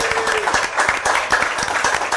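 A room crowd claps for an events team, a dense burst of applause that carries evenly and fairly loud from start to finish.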